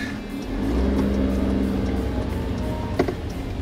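A Nissan Otti kei car with a three-speed automatic accelerates hard from a standstill, its engine droning steadily and laboring, with a brief click partway through.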